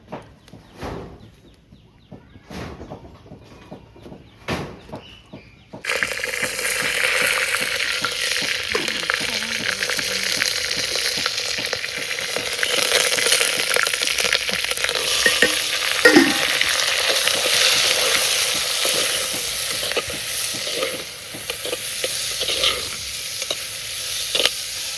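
A tempering in sesame oil sizzles loudly and steadily in a village kitchen while it is stirred. A few quiet knocks come first, and the frying starts abruptly and carries on to the end.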